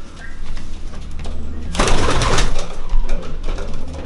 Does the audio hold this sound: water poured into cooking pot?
no